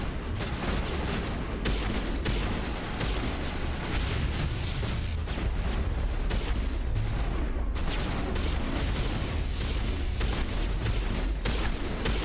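Pistol fire and combat noise in Mass Effect, a dense, continuous wall of shots and booms that holds steady and loud for the whole stretch, with no talk.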